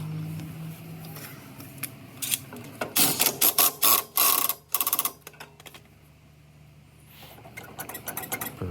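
Ratchet tightening the bolt on a Craftsman DYT4000 riding mower's drive pulley, with a faint hum at first, then a close burst of quick ratcheting clicks for about two seconds and a few softer clicks near the end.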